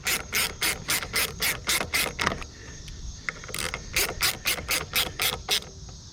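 Small 7mm screws come out of the air filter housing on a Troy Bilt TB110 lawn mower with a ratcheting driver, giving two runs of quick, regular, close ratchet clicks split by a short pause.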